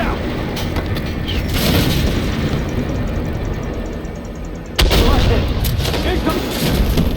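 Artillery shells slam into an immobilized tank in the video game Armored Warfare, a loud sudden boom near the five-second mark over a dense, continuous rumble of battle and engine noise.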